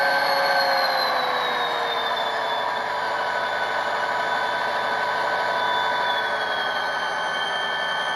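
HO scale Kato model locomotive sound module playing through a homemade speaker, a continuous steady electronic engine drone with gently gliding tones, close and even throughout, no talk.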